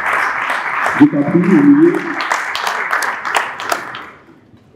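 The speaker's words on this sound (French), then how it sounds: "On peut continuer à applaudir, hein?" An audience applauds an author's arrival at a book event, scattered claps running under a voice speaking French, then fading out near the end.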